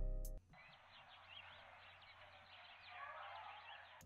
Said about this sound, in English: It's literally just birds and people talking